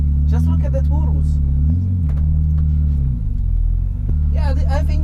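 Loud, close engine rumble from traffic at Monza, with an idling drone and repeated revs rising and falling, while voices talk over it.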